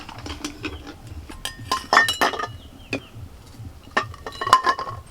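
Hard-boiled eggs lifted one by one out of a metal pot with a utensil, giving scattered sharp clinks of metal and shell against the pot rim, close and fairly loud with brief pauses between.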